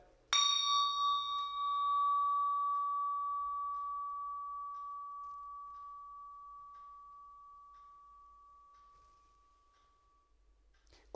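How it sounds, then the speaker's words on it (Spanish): A single Tibetan bell is struck once and rings with a clear, pure tone that slowly fades over about ten seconds, heard alone in a quiet room. "Y también sonidos como las campanas tibetanas"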